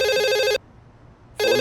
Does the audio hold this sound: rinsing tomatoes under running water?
no